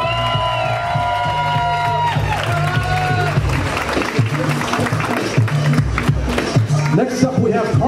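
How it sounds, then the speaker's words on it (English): A crowd applauds and cheers continuously at a DJ-emceed event, loud and dense, while an amplified voice speaks over the noise. "I want you to give them a strong round of applause"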